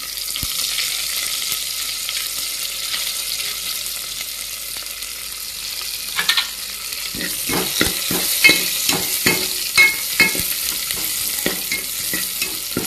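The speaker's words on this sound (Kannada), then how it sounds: "ಈರುಳ್ಳಿ ಸ್ವಲ್ಪ ಕಲರ್ ಬಿಡೋ ಮಟ್ಟ ಬಾಡಿಸ್ಕೊಳ್ಳಿ" Onions and curry leaves sauté in hot oil for drumstick sambar, a steady close sizzle with a run of sharp spatula scrapes and stirring knocks in the second half, no voices.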